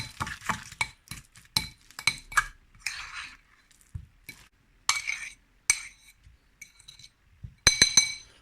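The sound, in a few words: mixing soft butter with garlic in a bowl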